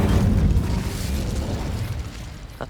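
An Incendio fire spell cast in Hogwarts Legacy on the Switch, a loud rumbling burst of flame that roars then slowly fades over a couple of seconds.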